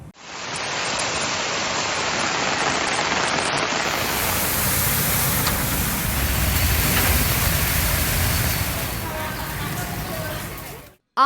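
Heavy rain pours steadily in Tamil Nadu, a dense, loud, continuous hiss with no break that fills the scene for about ten seconds before cutting off abruptly.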